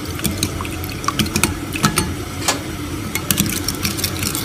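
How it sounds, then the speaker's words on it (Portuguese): Water poured into a pan and stirred for a broth, a close continuous liquid swish with repeated sharp clicks and scrapes of the utensil against the pan, no talking. "Aí você coloca a água aqui e você vai mexer e deixar esse caldo aqui assim."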